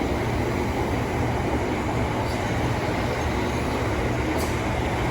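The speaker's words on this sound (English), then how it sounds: "South Eastern service to Hastings. 375 804s on the rear of the Charing Cross service." A Southeastern Class 375 electric train on a Hastings service sits at a London terminus, giving a continuous broadband rumble and hiss with faint high squeals, steady and fairly loud throughout.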